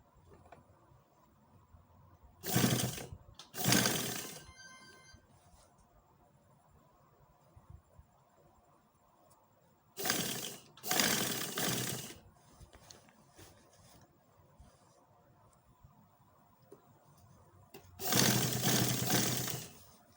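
Sewing machine stitching a kurta in three separate bursts of close, steady whirring run, each lasting a couple of seconds, with near silence between them.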